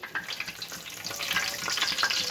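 Whole spices and a bay leaf dropped into hot oil for a spicy Guntur-style fish curry, giving a steady, close sizzle and crackle that builds slightly in intensity, with no talking.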